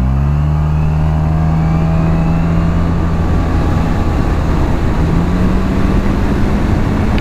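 A Suzuki Burgman 650 scooter accelerating in power mode, a loud, steady engine drone with rising pitch across several seconds, heard from the rider's position without talk.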